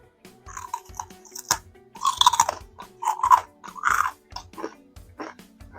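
Close, loud crunching and chewing as someone bites into crunchy churros made in an air fryer from flour tortillas, with a run of irregular crisp bites and munches and no talking.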